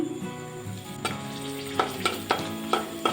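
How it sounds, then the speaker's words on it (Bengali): Dried red chilli, cumin seeds and asafoetida sizzle in hot oil while being tempered for a green bean and potato curry, with a steady crackling fry punctuated by several clinks of stirring. "ওই তেলে দিচ্ছি একটা শুকনো লঙ্কা ফোড়ন অল্প জিরে ফোড়ন আর দিচ্ছি হিং"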